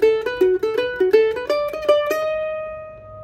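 The opening lick of a bluegrass tune is played on a string instrument as a quick run of plucked notes and double stops, close and bright, ending in a ringing sustained note that fades.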